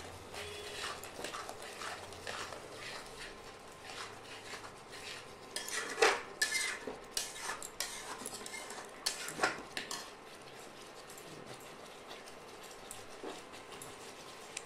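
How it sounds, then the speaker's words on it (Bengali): Chicken being stirred and sautéed in a pot on an induction cooker, with quiet sizzling under irregular metal clinks and scrapes of a spoon against the pot, faint and close. "আর এটাকে এবার এটাকে একটুখানি কষিয়ে নেব, নাড়ে চাড়ে কষিয়ে নেব।"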